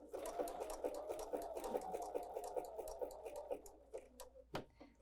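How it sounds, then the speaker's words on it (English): A sewing machine stitching fabric for an elastic scrunchie runs in a steady fast motor hum with rapid needle ticking for several seconds, then stops, followed by a couple of handling clicks, close-up with no speech. "I'm going to get started sewing and then come right on to the project."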